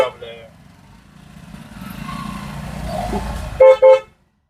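A vehicle engine rumbles nearby on a road between Devgad and Shirgaon, then a horn gives two short, loud honks close by before everything cuts off.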